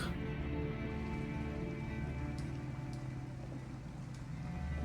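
Pouring rain in the video game Detroit: Become Human, a steady soft hiss of rainfall with a low rumbling background and a few faint drips, continuous and quiet, no talk.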